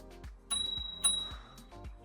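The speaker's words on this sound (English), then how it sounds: "They do include a bell." The bell on a RadWagon 5 cargo e-bike rings close and clear, a few bright pings struck in quick succession with short ringing decays.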